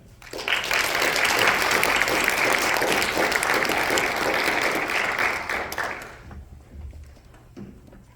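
An indoor audience gives a warm burst of applause to welcome a speaker at an evening talk, dense clapping that swells quickly, holds steady for several seconds, then fades out.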